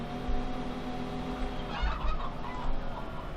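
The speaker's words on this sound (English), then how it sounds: "We don't want to let all the chickens out of the yard." Chickens cluck in a feeding yard in Farming Simulator 15, a steady layered fowl chatter with occasional louder clucks over low ambient farm noise, no voices.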